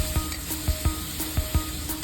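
Tomatoes and green chillies fry in a pan with a steady hiss, while rhythmic scraping strokes of a spatula come at a regular pace, close and moderately loud.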